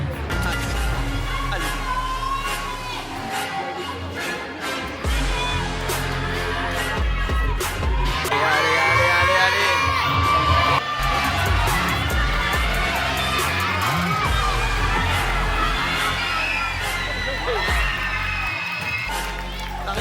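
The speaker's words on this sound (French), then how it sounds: "Arrêtez de crier!" Crowd at a regional UFOLEP gymnastics competition shouting, whooping and cheering loudly and continuously, with children's shrieks rising above a dense roar of voices close around.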